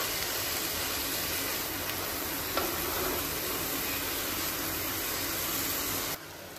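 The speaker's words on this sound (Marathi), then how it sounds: "आता आपण दुसऱ्या साईडनी पण छान फ्राय करून घेऊ." Paneer frying in a pan on its other side, giving a steady close hiss of sizzling oil that drops off abruptly near the end.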